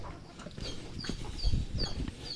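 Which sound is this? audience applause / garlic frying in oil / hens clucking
hens clucking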